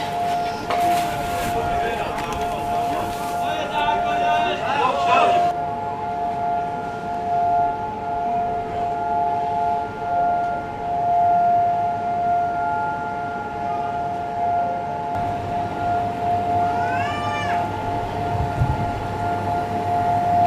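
A long, steady civil defense siren wailing at a constant pitch during a nationwide minute of silence in South Korea, with brief background clatter and shifting noises around it.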